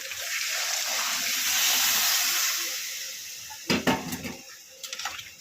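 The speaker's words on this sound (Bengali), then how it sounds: "এবার পরিমাণ মতো জল দিয়ে দেবো। জলটা দিয়ে দেবো।" Water is poured into a pan of spiced fried potatoes for a vegetarian potato curry, a rushing pour that swells then fades, followed by a few metallic clanks of pan and utensil, close up with no voices.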